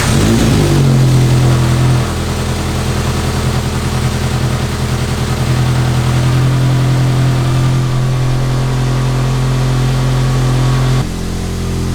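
A car engine idles steadily and loudly up close, a strong low hum running alone with no talk before cutting off near the end.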